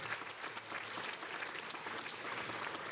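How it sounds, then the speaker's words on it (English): A school ceremony audience at a high school honor society and hall of fame event applauds steadily for about three seconds, a dense, even patter of many hands clapping without any talk over it. "give them a round of applause as well"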